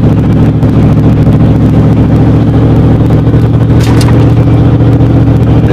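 A car cruises at about 38 mph with the engine near 1600 RPM, a loud, steady low engine drone and road rumble filling the cabin without a break.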